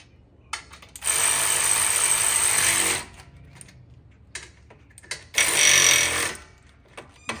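Impact driver driving bolts into a trailer jack on a toy hauler, with two loud bursts of rapid hammering rattle, one about two seconds long and a shorter one after, separated by quiet pauses and small clicks.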